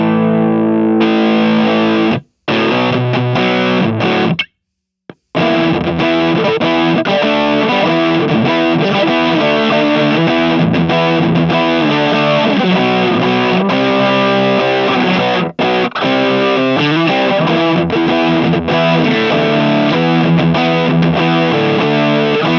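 Electric guitar played through the Nembrini MRH810 amp app on an iPad, a heavily distorted, chorused riff of loud sustained chords with two brief stops, no talking.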